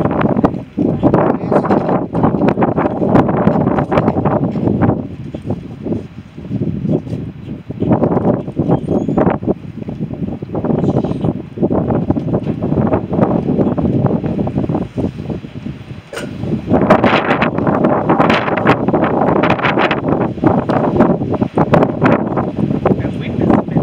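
Strong, gusty wind blowing outdoors during scrapping of an old boiler system, roaring steadily across the mic with surging bursts, loud throughout and nearly drowning out any faint voices.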